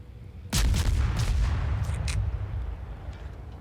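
Heavy 127 mm naval guns on a stock Mogami-class ship in World of Warships fire in a loud booming volley, followed by several more blasts and a long rumbling tail.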